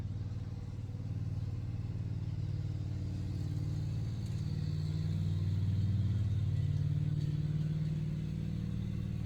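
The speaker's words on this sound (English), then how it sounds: "Waiting for the tractor to be shut off." A tractor engine idles steadily, giving off a constant low, droning rumble that swells slightly partway through, heard alone without any talking.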